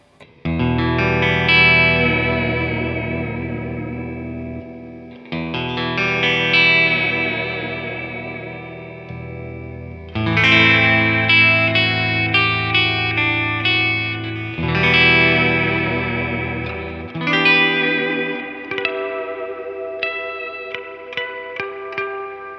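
Bright, twangy electric guitar chords from a Fender American Pro Classic Jaguar's bridge pickup with the strangle switch on, strummed in several long ringing phrases, with a reverb wash and a touch of chorus, ending in picked notes.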